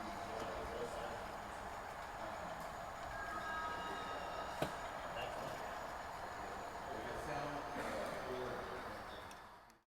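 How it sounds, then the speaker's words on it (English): A model GO train runs steadily on a layout with a soft, continuous rumble and faint clicks, quiet and fairly distant, with murmuring in the background. "we have a beautiful GO train just picking up passengers"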